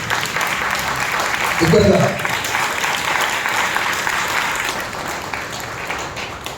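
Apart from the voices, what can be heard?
congregation applauding in church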